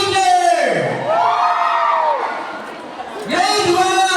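A school crowd of children shouts and cheers when their grade is called, loud rising whoops swelling then falling away, with a second burst of yelling near the end.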